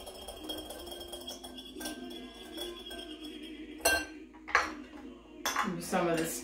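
Avocado salad dressing is stirred in a bowl with a utensil, producing scattered clinks and scraping clatter that grow busier and louder toward the end.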